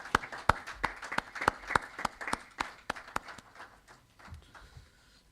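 Sparse, evenly paced claps from a small conference audience at a civil society event, sharp and fairly close, thinning out and fading away over the last couple of seconds.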